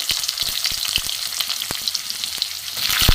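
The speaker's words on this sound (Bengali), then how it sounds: "আমি এবার সবজি কটা ভেজে নেবো মূলো" Radish, potato and eggplant pieces frying in mustard oil with five-spice seeds, a steady loud sizzle with scattered crackles and pops throughout, no voices.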